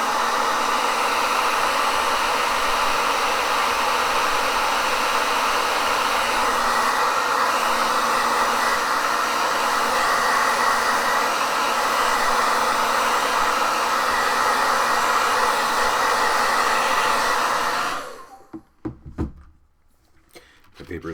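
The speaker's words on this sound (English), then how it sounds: "I'll go ahead and hit it with the hairdryer." A hair dryer blows on paintings on curling paper, a loud, steady, close rushing roar that runs unbroken for about eighteen seconds before switching off into quiet room sound.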